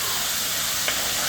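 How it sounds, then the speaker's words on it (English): Ruku curry paste for stewed chicken frying down in a pot gives off a steady close hiss and sizzle with no break. "you see the ruku is frying down"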